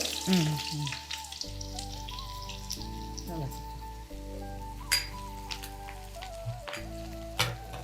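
Shallots sizzle and crackle steadily in hot oil in a pan, a close, continuous fry with scattered pops, cooked for a Kerala-style Onam sadya dish.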